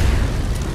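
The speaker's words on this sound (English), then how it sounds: "Okay, they just exploded." A short explosion in the Fortnite video game, a dense low-frequency boom that rumbles steadily for under a second with no talk over it.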